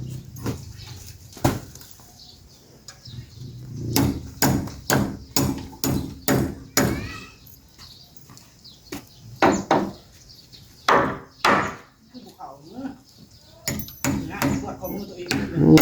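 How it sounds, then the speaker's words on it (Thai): Nails are hammered into a bathroom roof in sharp, irregular bursts of close wooden blows. Muffled voices and a possible dog sound come between the strikes. "ตอกตะปูใช่ป่ะนี่"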